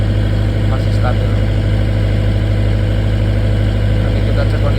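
A 40 kVA generator set engine runs steadily under a load test, a loud, continuous low drone with a strong hum and vibration that holds constant throughout without pause.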